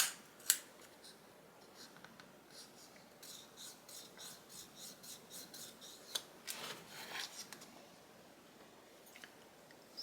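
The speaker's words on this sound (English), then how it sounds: "use my ruler to get some good clean folds right here" Paper being creased into folds with a ruler: repeated scraping, rubbing strokes at close range, with a sharp tap near the start and a denser run of rasping passes later.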